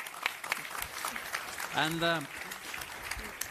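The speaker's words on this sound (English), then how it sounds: "Please give them an applause." A seminar audience at an Arctic security event applauds, a diffuse patter of clapping heard at moderate distance while a voice briefly speaks over it.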